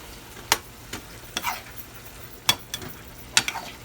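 Green beans stirred and stir-fried in a pan, with a few sharp scraping clacks of the utensil spaced through a soft, steady sizzle, heard up close and without any talking.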